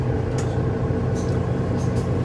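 A Mercedes-Benz Citaro C1 facelift bus engine drones loud and steady from inside the vehicle, a dense low rumble with a few faint rattles and squeaks over it and no speech.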